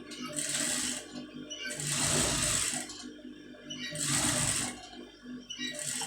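A sewing machine stitches a front neck piece for a tailored garment in bursts: whirring runs of about a second, each stopping and starting again, close and fairly loud with no talk.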